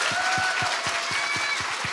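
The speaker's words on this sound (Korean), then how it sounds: "여러분 박수 좀 주세요" A steady round of applause from a church congregation, dense and continuous clapping throughout.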